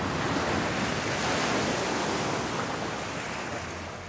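Big ocean waves crash at the Right, a heavy surf break, as a dense, loud, steady roar of breaking water and wash that eases only slightly toward the end, with no voices.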